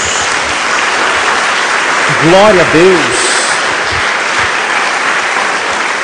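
A church congregation gives a round of applause to Jesus during a worship service, with loud, continuous clapping throughout as a voice briefly calls out a short praise midway.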